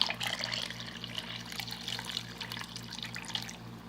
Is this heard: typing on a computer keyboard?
no